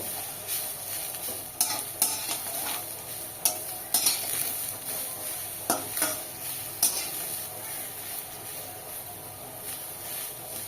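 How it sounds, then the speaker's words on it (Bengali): A paste of ground ridge gourd peel fries in a pan with a soft continuous sizzle, broken by repeated sharp clinks and scrapes of a spatula stirring it, close up and without speech. "এটাকে ভালো করে ভেজে নেব।"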